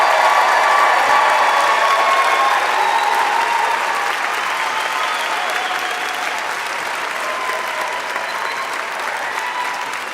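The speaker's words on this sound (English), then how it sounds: "Yes, round of applause for all of our graduates." A law school spring commencement crowd claps for the graduates, with a loud, full wave of applause and faint whoops at the start that slowly thins over ten seconds.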